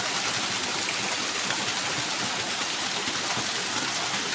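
A mountain waterfall at Ban Na Ang pours with a continuous, even rushing hiss, moderately loud and steady, with no voices over it.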